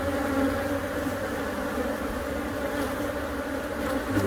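A dense swarm of bees hums continuously during a hive removal, a thick, steady buzzing close by with no pauses and no voices.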